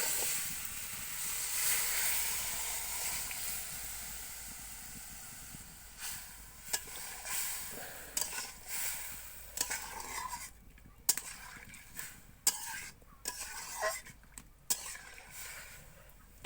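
Banana flower sautéeing in a pan for mochar dalna: a soft steady sizzle that gives way to intermittent scraping and clinking of a spatula against the pan, fairly quiet and close.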